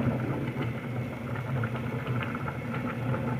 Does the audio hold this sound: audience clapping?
no